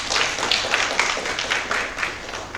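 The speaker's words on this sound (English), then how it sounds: "How about a round of applause for us?" Sustained applause from a conference audience, a dense wash of many hands clapping at a steady level throughout, moderately distant, with no voices standing out.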